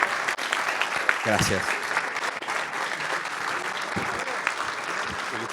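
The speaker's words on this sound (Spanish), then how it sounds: "Los despedimos con un aplauso" A room full of people claps steadily, a dense wash of applause, while a voice briefly speaks over it near the start.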